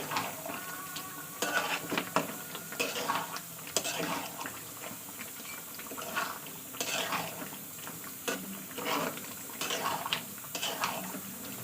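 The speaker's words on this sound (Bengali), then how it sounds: "ধনেপাতার কুচিটা দেওয়ার পরে আবার একটু কষে নেবো আমি" Meat curry (mangsho kosha) being stirred and fried in a pan with chopped coriander, giving repeated scraping and clattering strokes over a soft sizzle, close and steady with no talk.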